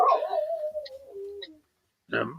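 A puppy whimpers in a long, drawn-out whine that slides downward in pitch and fades, followed by a pause of near silence and then a short, rougher burst of sound near the end.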